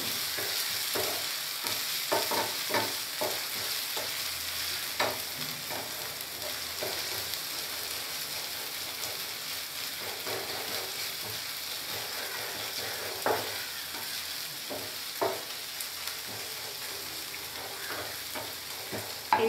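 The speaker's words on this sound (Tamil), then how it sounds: "இஞ்சி பூண்டுடைய பச்சை ஸ்மெல் போகிற வரைக்கும் இந்த மாதிரி நல்லா அதை மிக்ஸ் பண்ணி விடணும்." Ginger-garlic paste is mixed in an electric rice cooker during chicken biryani preparation, producing a quiet, continuous frying sizzle. Scattered scraping strokes from stirring run throughout.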